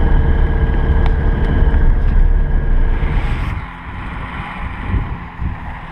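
A VAZ car rolls off a field, its engine droning low and loud under heavy wind buffeting, the rumble easing midway before rough bumping noises continue.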